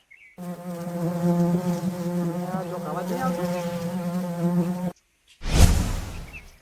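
Bumblebees buzz in a steady, close, droning hum for several seconds, then fall silent before a voice speaks.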